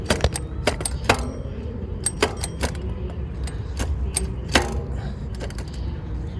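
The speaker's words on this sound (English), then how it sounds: "It was the chain had just got knocked off." A bicycle chain knocked off its gear while cycling along Xi'an's ancient city walls, giving scattered metallic clicks and rattling clinks in irregular bursts over a low, steady rumble of road and wind noise.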